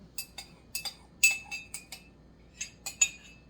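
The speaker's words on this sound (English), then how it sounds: "stir that all together" Softened or melted butter mixture stirred in a bowl, giving a series of light, irregular clinks of a utensil against the rim, close and clear with no talking.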